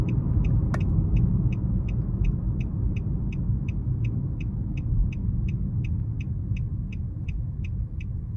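Cabin of a 2023 Nissan Murano SL on the road, a steady low rumble of road and engine noise with a regular, evenly spaced ticking chime repeating throughout, loud and close.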